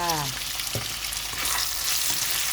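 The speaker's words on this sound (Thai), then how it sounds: "ผัดหมูกับกระเทียมใส่กันแบบนี้" Pork stir-fried with garlic in a pan sizzles steadily and loudly throughout, with a few scrapes and stirs of a utensil, close by and with no talk.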